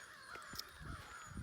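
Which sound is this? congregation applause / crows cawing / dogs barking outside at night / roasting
crows cawing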